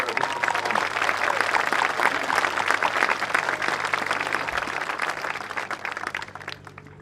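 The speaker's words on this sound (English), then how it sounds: "Another round of applause for our senior members of concert." Commencement audience applauding senior members of a concert group, a dense, steady wash of clapping that fills the hall and tapers off near the end.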